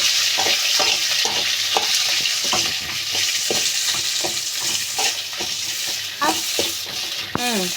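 Green chillies and onions, small shallots mixed with large onions, fry in a pan for mint chutney, with a steady broadband sizzle under repeated rhythmic scrapes of a spoon stirring, close and fairly loud throughout.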